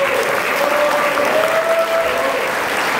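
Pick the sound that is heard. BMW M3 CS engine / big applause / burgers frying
big applause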